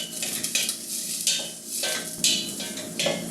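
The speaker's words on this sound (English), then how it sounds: "So I'm just gonna get this sauteed a little" Roughly chopped onion sauteing in a hot pan, a steady soft sizzle broken by repeated scraping and stirring clatters of a utensil against the pan, close and moderately loud with no talking.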